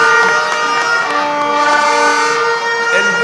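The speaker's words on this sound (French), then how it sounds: "les klaxons, il faut les garder pour après" Many car horns blaring together at a political rally celebrating independence, a dense, loud, continuous din of overlapping honks with crowd noise underneath.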